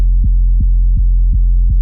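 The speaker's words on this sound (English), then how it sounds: "It's just a real basic kind of sine wave." A basic sine-wave sub bass from a Serum sound pack for UK happy hardcore, a loud deep continuous tone pulsing in five evenly spaced throbs, heard alone.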